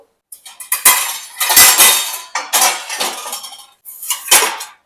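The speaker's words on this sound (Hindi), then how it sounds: "तो करीब 20 प्लेट आप फ्रंट वाले ट्रे में डाल सकते हो" Ceramic plates and glass cookware lids clatter and clink as they are set into the front rack of a dishwasher, four or five close, sharp bursts of rattling separated by brief pauses.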